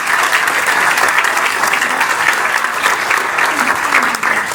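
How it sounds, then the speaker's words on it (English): A crowd at the Music Box applauds loudly and steadily, a dense wash of clapping that holds at full strength for several seconds before easing slightly at the end. "so a big round of applause for those guys"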